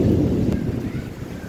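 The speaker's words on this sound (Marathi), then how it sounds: "बापरे सगळं उडालं इकडनं, सगळं उडत आहे हवा बघा तिकडनं" Strong gusty wind blows just before a rainstorm, a continuous loud low roar and rumble buffeting the microphone with no break.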